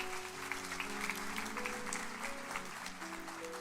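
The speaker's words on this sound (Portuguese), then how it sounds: "Aplauda Jesus." Congregation applauding during a church sermon, a steady wash of clapping sustained throughout with music tones held underneath.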